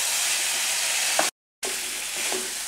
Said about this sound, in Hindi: अब इसका पानी ड्राई हो गया है और हम 5 मिनट और इसको भूनेंगे।